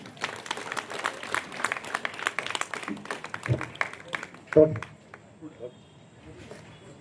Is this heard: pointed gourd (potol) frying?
no